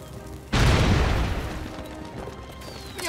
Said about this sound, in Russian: Сейчас рванет!